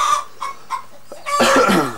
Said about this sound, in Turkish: Gıdak gıdak gıdak.